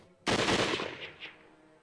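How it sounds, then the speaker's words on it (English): In Hakuouki: Kyoto Winds, a sudden loud burst of rapid gunshots erupts, then trails off into echoing reports that fade over about a second. "Just then, more gunshots had echoed behind us."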